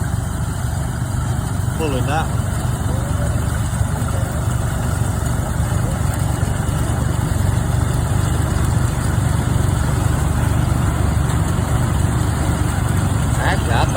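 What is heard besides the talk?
old McCormick Farmall tractor engine running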